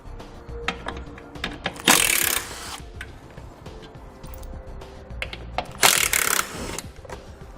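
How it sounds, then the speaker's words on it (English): Socket wrench with a 10mm socket removing bolts under the front bumper of a 2018 vehicle, close ratcheting clicks and metallic handling noises, with two louder bursts of rapid ratcheting. "We're going to need to take out 3 bolts using a 10mm head socket that run along the front."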